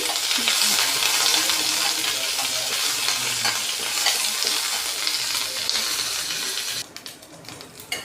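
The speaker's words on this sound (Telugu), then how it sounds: "ఎండుమిరపకాయలు కరివేపాకు ఇవి వేగాలి" Bright, crackling sizzle of mustard seeds, dry chillies and curry leaves frying in oil close up, loud and continuous, then abruptly dropping quieter near the end.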